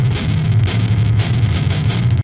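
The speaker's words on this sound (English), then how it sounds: "He uses the pitch shifter on Archetype Gojira to blend in a filtered octave down signal." Distorted electric guitar run through an octave-down pitch shifter in the Archetype Gojira plugin at full wet mix, giving a heavy, lower-tuned chugging tone with a thick low end, played continuously and loud with no talking.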